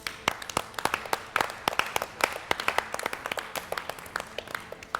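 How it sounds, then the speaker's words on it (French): Moderate applause from a small group at a cooking competition, scattered claps blending into a steady patter that thins toward the end. "sans manquer de recevoir nos encouragements et nos applaudissements"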